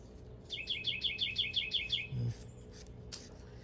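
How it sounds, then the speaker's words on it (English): A songbird outdoors chirps loudly in a rapid run of about eight repeated sharp notes, followed by a few scattered calls against quiet background noise. "Jeez, bird, you're loud, man."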